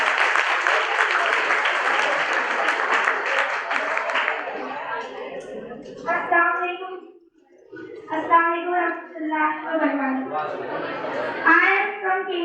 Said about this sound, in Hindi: इसके लिए एक जोरदार तालियां बजाएं